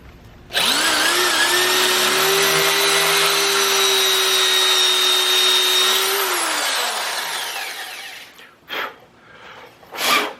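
A power drill with a hardened steel bit whirs at steady high speed drilling into a sheared steel bolt on a 460 Ford engine for several seconds, then winds down, followed by a few short bursts.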